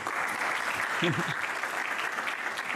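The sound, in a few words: audience applause for Linda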